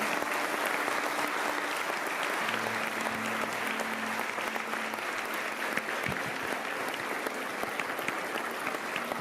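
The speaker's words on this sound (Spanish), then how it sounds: "Ese aplauso es para el Señor, ¿cierto?" A church congregation applauds continuously, a dense and even wash of clapping that holds throughout.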